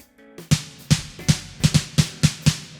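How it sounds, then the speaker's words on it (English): Synthesized snare drum hits from a VPS Avenger software synth, eight sharp punchy strikes with a short tonal body and noisy crack, played alone in a fairly steady rhythm. "So I'm going to start video 1 off with the foundation for this riser effect, which is a snare sound."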